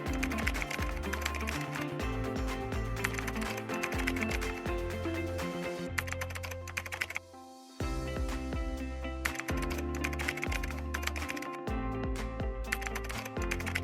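Steady rapid typing on a computer keyboard while filling in an online form, continuous clicking keys heard close under a constant background music bed, with one brief pause partway through.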